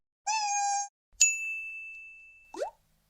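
A single short cat meow comes near the end, after a steady electronic tone and a bright ding with a long ringing hold, all clean and close with no background.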